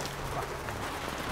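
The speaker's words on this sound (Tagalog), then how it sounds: "Simula na ito ng ulan." Rain starts falling, a steady, fine patter across a surface, close and even for a brief moment with no talk.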